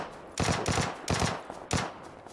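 Automatic rifle fire in the battle game PUBG crackles in several short, sharp bursts of rapid shots, fairly close and loud, separated by brief gaps, with no talking over it.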